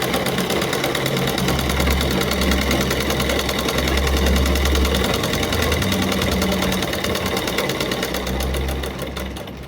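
A sewing machine stitches a blouse neck piece, running in a steady, continuous whir for nearly the whole stretch and then easing off near the end, loud and close with no talk.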